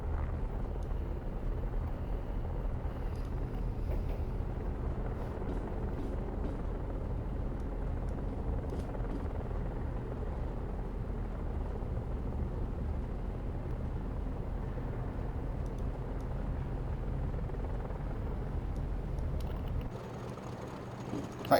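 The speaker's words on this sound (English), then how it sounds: "I'm pretty sure that's a helicopter noise" Helicopter noise in the video game Train Simulator, heard from inside the cab of a Class 50 locomotive: a steady, low rumbling drone holds at an even level for about twenty seconds before dropping away near the end.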